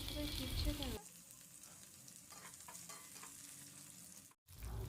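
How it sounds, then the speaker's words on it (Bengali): Cut eggplant pieces, dropped into hot oil left over from frying potato and drumstick for shukto, sizzle and crackle steadily, with a louder burst at the start and a brief drop near the end. "ওই তেলেই দিয়ে দেবে টুকরো করে কেটে রাখা বেগুনগুলো"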